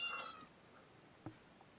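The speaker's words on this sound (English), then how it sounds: "Any random cat noises from now on are designated Edward." A house cat gives a short meow near the start, followed by a faint brief chirp or mew later, all over quiet room noise with no talking.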